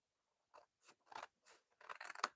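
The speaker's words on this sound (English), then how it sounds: "So I am going to cut this out" Scissors snip around a scrapbook sticker, about five or six short crisp cuts in an uneven rhythm, close, quiet and with silence between snips.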